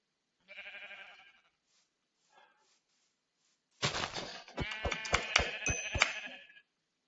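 Sheep bleating in the blocky Web3 game Hungry World, a clear bleat at the start, a faint blip, then a louder burst of bleats mixed with sharp thunking hits, close and unaccompanied by talk.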